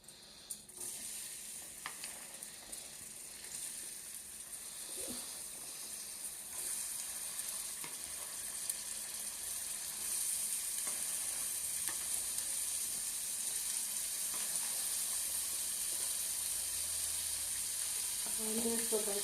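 Onions frying in hot oil in a pan, a loud continuous close sizzle that swells slightly louder partway through, with occasional faint clinks.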